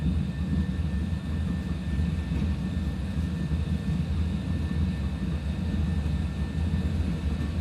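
Airliner jet engines roar steadily on the takeoff roll in a flight simulator, a loud, continuous broadband rumble with no break or change across the stretch.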